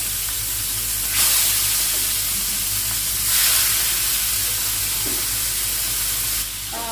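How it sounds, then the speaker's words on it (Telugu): Large prawns sizzle steadily in hot oil with turmeric in a pan for biryani, a constant close hiss with brief louder bursts as they are moved about. "ఈ ప్రాన్స్ అనేవి ఫ్రై చేసుకోవాలి."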